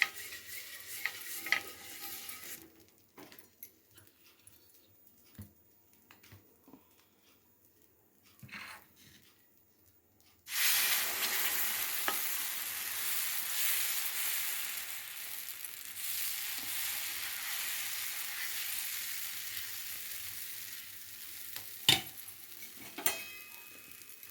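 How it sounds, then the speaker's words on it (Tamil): Protein-rich dosa batter hits a hot pan partway through, setting off a loud, steady sizzle that holds to the end, after a quieter stretch of faint kitchen clinks and shuffling. "இதேமாரி இன்னொரு தோசையை நான் ஊற்றி காட்டுறேன்."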